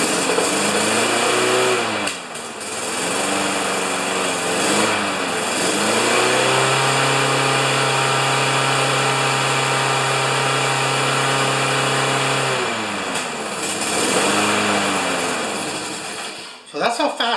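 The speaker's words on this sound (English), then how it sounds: "It was revving before I actually took the pressure off the throttle arm." A Craftsman 6.5 HP Tecumseh small engine runs loud and close at high revs, holding a steady drone with a few dips and rises in speed before cutting off near the end.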